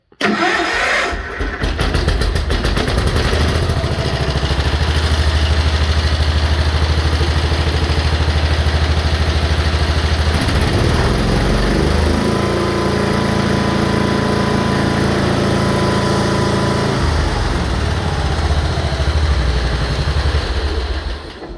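A small engine, choked and with its balance gears removed, cranks and catches, then runs loudly up close, its rough idle shifting pitch a few times before settling into a steady chug.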